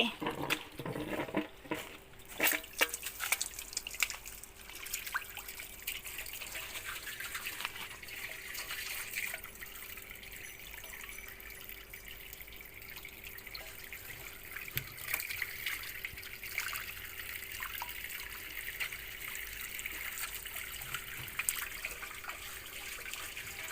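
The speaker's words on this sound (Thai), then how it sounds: "กำลังเปิดน้ำใส่" Water pours from a tap into a concrete fish pond, a steady splashing trickle running for the whole stretch, close by, with some handling noise early and faint background sounds.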